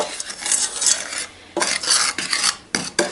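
Cocoa and salt scrape and rasp as they are stirred in a 3-quart saucepan, in uneven bursts of gritty mixing with short pauses between strokes.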